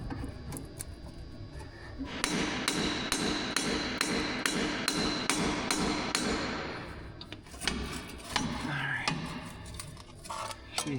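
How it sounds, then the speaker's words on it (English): Hammer blows ring on the back of a big pry bar during repair work on a Caterpillar 977H loader with a cracked head, a fast, regular series of sharp metallic strikes for several seconds, then scattered clanks and knocks. "I was just hammering on the back of our hammerable big pry bar here"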